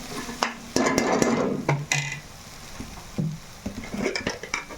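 Raw prawns and cucumber frying in a pan, heard as a soft sizzle with intermittent stirring scrapes and clinks of a spoon against the pan, fairly quiet with pauses between strokes.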